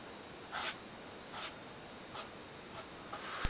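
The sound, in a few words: writing with a Krink K-71 purple paint marker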